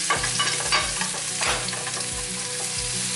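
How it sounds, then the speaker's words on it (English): Onions frying in a pan hiss loudly and steadily, with rhythmic spatula scrapes and knocks recurring every half second or so; no voices. "I'm going to fry this off."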